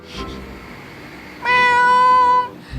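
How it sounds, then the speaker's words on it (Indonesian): A cat lets out one loud, drawn-out meow lasting about a second, close by and clear, after a stretch of quiet with faint noise. "ada suara kucing besar sekali"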